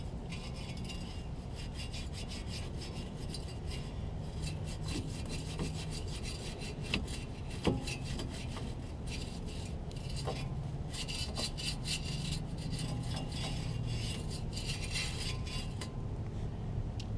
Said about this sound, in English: I'm going to scrub it with a little brush here.